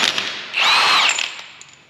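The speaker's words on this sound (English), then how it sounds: "Now you're gonna use a 36mm socket to pull the hub off." A power tool spins a 36mm socket to pull the wheel hub off a solid axle: one loud, whirring burst of about half a second, then fading rattles and ticks.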